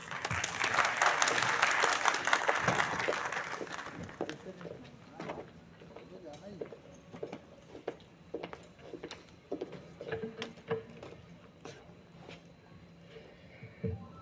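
Applause from a conference audience welcoming a speaker at an international conference on religious tourism, loud and dense for about four seconds, then thinning into scattered individual claps that trail off.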